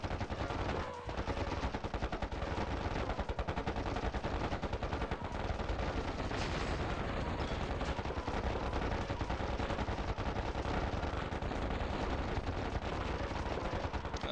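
Steady, rapid gunfire from units in the strategy game KKnD Evolved runs without pause for the whole stretch, a dense rattle of overlapping machine-gun bursts at constant loudness.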